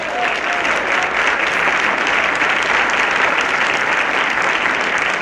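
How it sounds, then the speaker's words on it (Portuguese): Round of applause from a crowd, dense and steady clapping at a constant loud level throughout, with no voices standing out. "Dá uma salva de palmas aí pro Pedro Dória"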